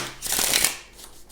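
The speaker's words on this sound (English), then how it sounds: "so you shuffle the card 7 times" A deck of playing cards is shuffled once, a quick riffling flutter rising and fading within about half a second, close and fairly quiet.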